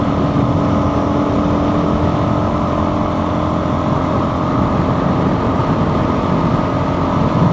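A Suzuki DRZ400 dual sport motorcycle cruises at around 50 to 60 mph, its engine a loud, steady drone with a whiny tone and wind rush running without a break, no talking.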